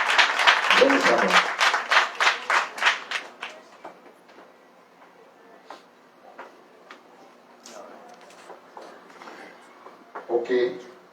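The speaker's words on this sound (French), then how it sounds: "il mérite un bel applaudissement" Applause from an audience at an evening event, a burst of loud clapping in the opening seconds that fades into scattered claps and light murmur, with a short swell near the end.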